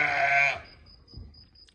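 A single loud bleat from an Arashan sheep from Bishkek, Kyrgyzstan, close and brief, followed by quiet background with a faint high tone.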